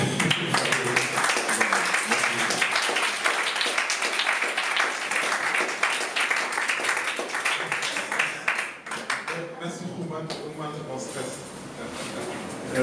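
An audience applauds a speaker arriving at a public conference, with sustained dense clapping at steady loudness that thins out toward the end.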